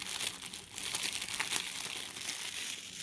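Plastic wrap is peeled and crinkled off a video game box, a Deluxe Edition, with a steady, quiet stream of close crackling and rustling throughout.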